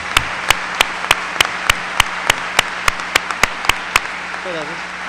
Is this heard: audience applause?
yes